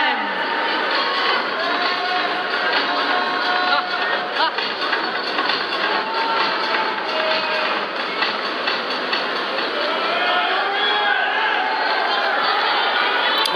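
Filipino tennis fans roar and cheer in a stadium during a women's match, a dense sustained crowd noise that stays loud and steady throughout, with no pauses or lulls.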